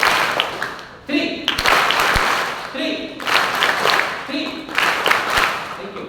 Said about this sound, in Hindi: वैभव के लिए 3 ताली